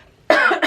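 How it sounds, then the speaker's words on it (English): One harsh, close cough bursts out suddenly, followed at once by a second short cough in a quiet room. "Every once in a while, that sensation that I want to cough"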